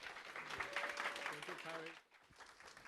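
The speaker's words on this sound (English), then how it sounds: "Please welcome him with a big round of applause, Takuya!" An audience at a school demo day event applauds, the clapping mixed with a host's voice and some musical tones, then dropping away suddenly near the end.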